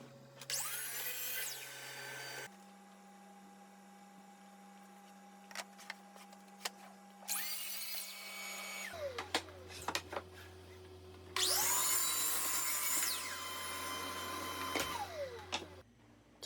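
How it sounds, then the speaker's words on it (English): Three separate bursts from a miter saw cutting bookcase parts to length against a stop block: each one a loud motor spin-up, a blade bite and a spin-down, with quieter workshop hum between the cuts. "To cut the parts to length, I'll set up a stop block and cut them over at the miter saw station."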